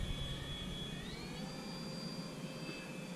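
A foam board RC Sopwith Camel model plane makes a low, slow flyby, its electric motor giving a steady faint whine with a slight pitch rise partway through, over outdoor background noise.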